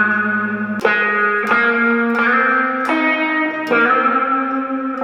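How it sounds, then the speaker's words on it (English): Electric guitar plays simple, subtle licks through a Funky Ottawa preset with reverb and EQ, struck notes ringing out about every second over a sustained tone, loud and alone with a reverberant tail. "So the next thing I have coming in is the guitar."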